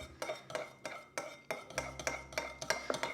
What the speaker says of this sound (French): je vais verser tout doucement en remuant